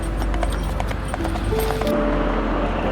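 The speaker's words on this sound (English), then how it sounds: "horse-drawn carriages continue to trot along" Hooves of a horse-drawn carriage clip-clop along a street in Addis Ababa, Ethiopia, a fairly loud, steady trotting rhythm over constant traffic and street noise.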